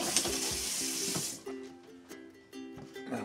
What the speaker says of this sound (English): Fill it with water as much as I can